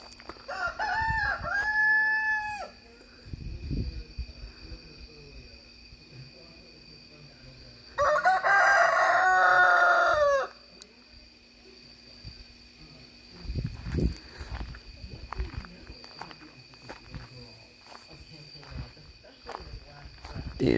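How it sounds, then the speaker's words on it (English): Roosters crow repeatedly around a backyard chicken tree, two loud harmonic crows standing out near the start and again midway, with fainter clucks, insect chirps and low rustling between them. "They ain't crowing for nothing."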